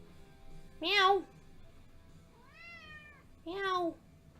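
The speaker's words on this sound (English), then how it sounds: "Hi, kitty. It's Mystery. She's wanting attention." A pet cat named Mystery meows three times, two loud close calls with a softer, longer meow between them, against a quiet room.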